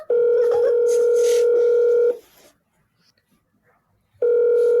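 A phone dials out, a steady electronic dial tone sounding for about two seconds, then a pause of near silence before the tone resumes.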